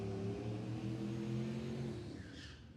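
A drag race car accelerates down a quarter-mile strip at the Texas Motorplex during Rocky Mountain Race Week 2024. Its engine roar is loud, steady and strongly pitched, then thins and fades slightly near the end.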